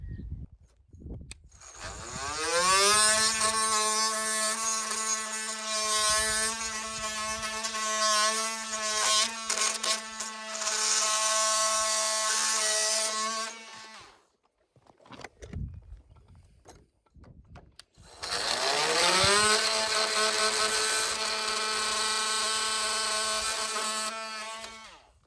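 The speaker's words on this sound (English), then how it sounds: "So I have my metal blade and my multi-tool." A multi-tool fitted with a metal blade cuts through nails at a sill plate, a loud, high buzzing whine held for about ten seconds, a brief pause, then a second long cut.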